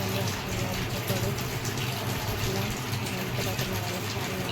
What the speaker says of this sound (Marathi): नंतर आता नळाला पाणी आलं होतं